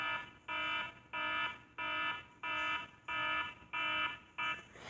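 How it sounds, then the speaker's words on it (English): A Finnish emergency air-raid alarm, used for invasions or bombings, sounding as a repeated electronic beeping tone in about seven even pulses with short gaps, loud and alone. "they used this alarm when there was emergency, like someone invading them or bombing them."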